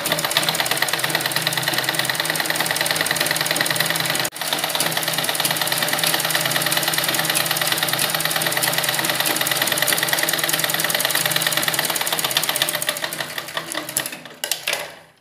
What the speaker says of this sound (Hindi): पहले आपको गला पट्टी को इस तरीके से सिल लेना है।